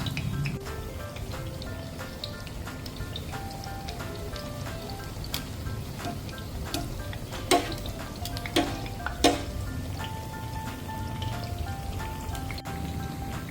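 Food sizzles and crackles steadily in hot oil, with occasional louder pops and clinks rising above the constant frying hiss.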